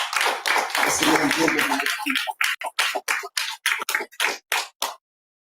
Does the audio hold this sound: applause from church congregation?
yes